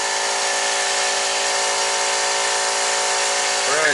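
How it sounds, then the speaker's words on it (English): A grinding wheel grinds metal off the engine bay of a VW MK2, giving a loud, continuous high whine that holds steady throughout and dips slightly at the very end. "Now we go back to our grinding wheel. And then we're gonna pretty much grind all this off until it's smooth again."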